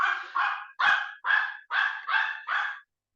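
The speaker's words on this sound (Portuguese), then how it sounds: "Meu cachorro está latindo, não sei se vocês estão ouvindo." A dog barks seven times in quick succession, short sharp yaps with a small pause between each, fairly close and alone.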